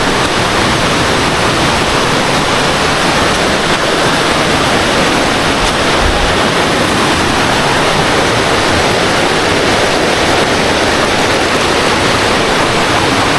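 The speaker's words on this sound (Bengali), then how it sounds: "আমরা ঝর্ণার খুবই কাছাকাছি, ঝর্ণার বুনো উল্লাস শুনতে পাচ্ছি।" Roaring rush of the Dhuppani waterfall on a remote Rangamati trail, heard close by as a loud, steady broadband wash of falling water with no voices.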